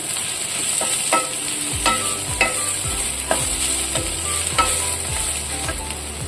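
Chopped onions sizzle steadily in a hot pan for a taro root fry, with repeated scraping strokes of a spatula stirring them at a regular pace throughout.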